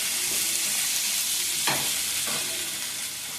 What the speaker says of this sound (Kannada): ಒಟ್ಟಿಗೆ ಫ್ರೈ ಮಾಡುವ.